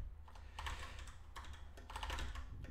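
Quiet, close tapping of keys on a computer keyboard during coding, a steady run of soft clicks in small clusters, no one speaking.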